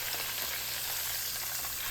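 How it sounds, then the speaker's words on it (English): A boneless ribeye steak deep fries in hot oil, giving a dense, constant crackling sizzle up close, with no one speaking. "Now adding them to my oil."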